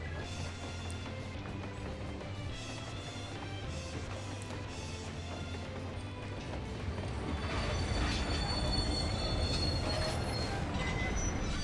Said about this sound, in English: Here's the Phantom Train.